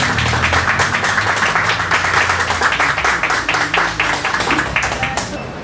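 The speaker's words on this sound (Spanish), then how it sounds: "Fuertes palmas para Félix Rosado." Audience applause for the late Félix Rosado at the opening of a community cultural centre, a dense, steady wash of many hands clapping that carries evenly for several seconds before tapering slightly at the end.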